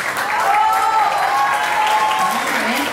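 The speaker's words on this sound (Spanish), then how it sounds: "Así que vamos a recibirlos con un fuerte aplauso." Loud, steady applause from an audience welcoming a performing group, a dense continuous wash of clapping with a sustained tone and some voices running underneath.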